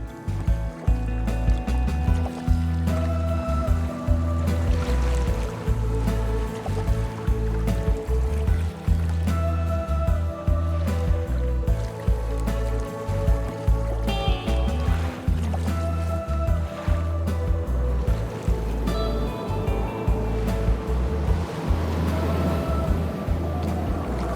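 Kayaks move across a Greenland fjord under sail and paddle, with continuous water rushing and splashing against the hulls, irregular knocks and paddle strokes, and steady wind-driven noise throughout.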